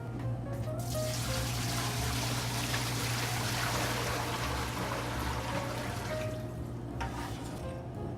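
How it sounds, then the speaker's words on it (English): Water steadily pouring into a bowl of Americana-style pizza dough mix made with Caputo 00 flour, a continuous close splashing stream running for about eight seconds with no talking. "First thing, we're gonna add the water."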